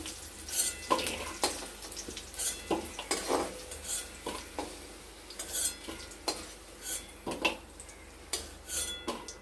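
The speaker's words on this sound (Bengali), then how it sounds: "আলুটা আমরা লাল লাল করে ভেজে নিয়েছি" Potatoes frying in oil in a wok (kadai) while being stirred, with repeated scraping and clattering strokes of a spatula against the metal over a soft sizzle, close and irregular throughout.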